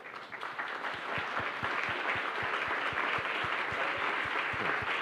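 Conference audience applauding a speaker and her team, a sustained, loud wash of many hands clapping in a large room, with a regular low thumping pulse running underneath.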